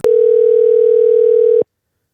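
A loud, steady telephone tone holds for about a second and a half, starting and stopping with sharp clicks, then silence.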